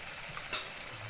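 Spices and yogurt fry in a pan with a soft steady sizzle, broken by one brief sharp scrape or stir just past the midpoint.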